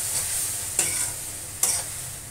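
Sweet Sindhi khorakh being stirred in a pan with boiled sugar candy mixed in, a steady scraping stir with a faint sizzle and three sharp clinks of a spoon against the pan.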